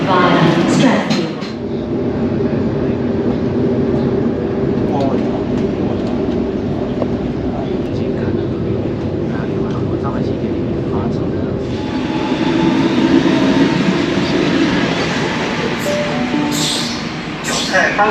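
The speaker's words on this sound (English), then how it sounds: "The next train to arrive on platform 18 goes to Bondi via Stratfield." A train pulls into a platform at a Sydney station with a steady loud rumble and rolling rail noise throughout, a platform announcement voice heard over it and some brief higher squeals near the end.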